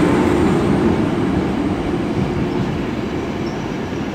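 A Class 90 locomotive on a Virgin Trains East Coast service at London King's Cross rumbles loudly and steadily as it rolls in, with wheel noise and a faint squeal, no voices.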